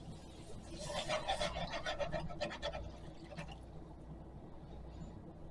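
Flour, butter, milk and half and half are whisked in a pan, a soft rhythmic scraping and rasping that is busier at first, then eases into a faint, steady swish.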